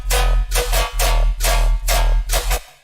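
Layered synth chords with an overdriven saw layer adding low-mid crunch, played as five or six loud pulsing stabs over a heavy bass, alone and close.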